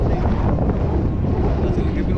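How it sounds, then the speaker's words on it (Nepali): Strong wind blowing across a long suspension bridge, a loud, steady, low buffeting roar that batters the microphone from start to end. "झुलुङ्गे पुलमा दामी हावा लाग्दो रहेछ यहाँ"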